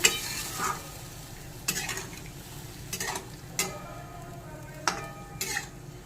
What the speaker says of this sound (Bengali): এবার ঝোলের জন্য জল দিয়ে দেব। আবার একটু নেড়ে নেব।